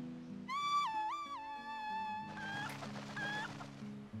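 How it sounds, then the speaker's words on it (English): A golden chicken in Zelda Twilight Princess HD clucks loudly in a rising, stepped cry, then breaks into a quick run of clucks over steady game music. "A golden chicken."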